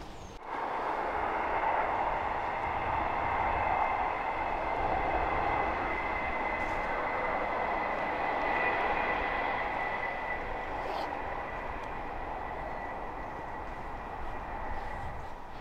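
A train on the Hull to Selby Railway rumbling past at a distance, a steady broad roar that swells quickly and holds for many seconds before slowly easing, with no talk over it.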